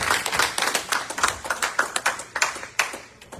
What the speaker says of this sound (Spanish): Dele fuerte palmas a la presencia de Dios.